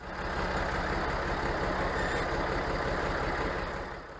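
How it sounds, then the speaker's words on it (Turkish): A Massey Ferguson 135 tractor's diesel engine runs at a steady, loud, continuous rumble with a regular low pulse as it drives out of a garage, with no talk over it. "Her zaman olduğu gibi garajımızdan traktörümüzü çıkartıp kultivatörün yanına yanaşmaya gidiyoruz."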